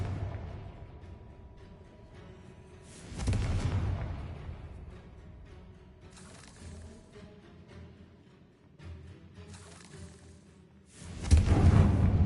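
A Confringo spell blast in a Harry Potter video game: several loud bursts with swooshing, booming impacts, separated by quieter stretches, the strongest near the end, with no speech.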